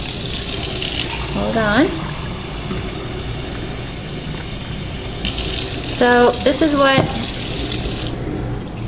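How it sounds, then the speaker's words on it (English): Water running into a Waterford Lismore crystal glass at a sink, a steady tap stream under a close voice, with rising filling tones as the glass fills in two separate pours. "I'm just going to put water in here for now."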